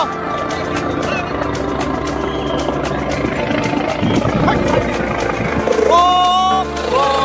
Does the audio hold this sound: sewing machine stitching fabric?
no